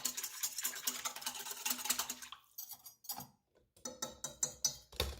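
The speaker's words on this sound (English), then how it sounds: "So I'm going to use a whisk. As you can see, I want my yeast to mix in there really well." A whisk stirs yeast into liquid in a bowl for homemade white bread, making quick rhythmic metallic clinks and taps against the bowl. The clinks break off briefly midway, then resume in sharper bursts.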